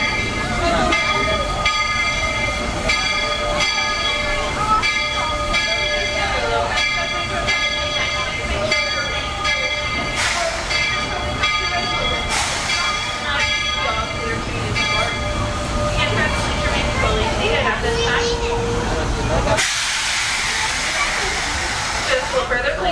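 A Walt Disney World Railroad steam train rolls with a rhythmic clattering chug and a sustained whistle-like tone, ending in a loud burst of hissing steam near the close, with voices talking over it.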